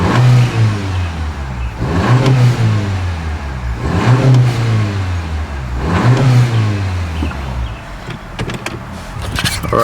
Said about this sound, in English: this is what it sounds like inside of the car.